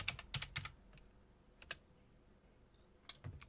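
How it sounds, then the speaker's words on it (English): Password being typed on a computer keyboard, a quick burst of close, crisp keystrokes followed by a few isolated taps and another short cluster, quiet and alone without speech. "Type in your password."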